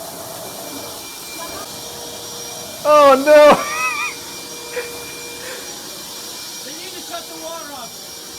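A vacuum cleaner runs in a video game with a steady, noisy drone beneath excited talk, while a short exclamation and a few brief game effects cut in over it.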